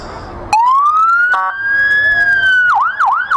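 A police car siren at a Fourth of July parade in Malone bursts on loudly, wails in a long rising tone, then shifts to a quick repeating yelp, close by.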